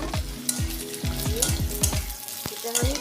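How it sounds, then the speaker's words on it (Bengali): Potatoes fry in a wok with cumin, bay leaf and dried chilli, a loud close sizzle broken by rhythmic metal spatula scrapes and clinks as the pieces are tossed. "কড়াতে আমি জিরে, তেজপাতা, শুকনো লঙ্কা ফোড়ন দিয়ে এবার আলুটা ভেজে নেব।"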